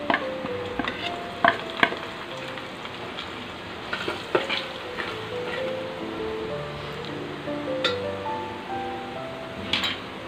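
Onions fry in a pan with turmeric, chili powder and Kashmiri chili added for Mumbai-style mutton rassa, a steady close sizzle broken by sharp clinks and scrapes of stirring, with no voices.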